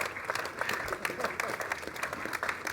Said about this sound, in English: Another big round of applause for Harmony, for Jill, for Paul.